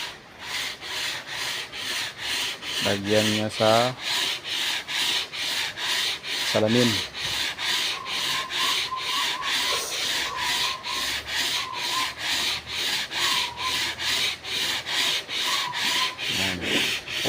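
An engine part is rubbed back and forth on 120-grit sandpaper wetted with diesel during an overhaul, with rapid, regular scraping strokes repeating throughout and someone speaking briefly over the sanding.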